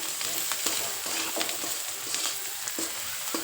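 A steady, dense sizzle rises from onion frying in a pan with soda added, for a dhaba-style whole masoor dish, broken by regular scraping stirs every half second or so.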